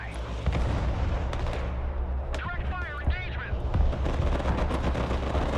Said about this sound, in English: Rocket artillery standing by